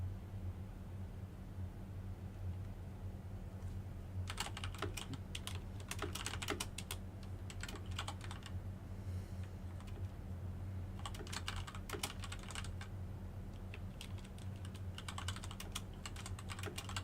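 Fast, forceful typing on a computer keyboard comes in bursts of sharp clicking separated by pauses, over a steady low hum in an indoor severe weather broadcast setting.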